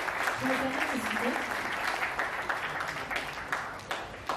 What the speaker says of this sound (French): je vous demande d'applaudir ceux qui vous ont soutenu et applaudi